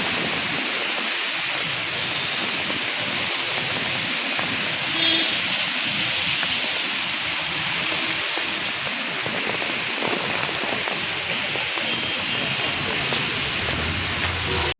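Heavy monsoon rain pours down on a Mumbai street in the Fort area in a constant, loud hiss that never lets up.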